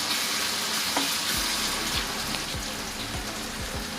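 Curry leaves dropped into hot oil, giving a steady loud sizzling hiss with scattered crackles and pops, close up and without speech.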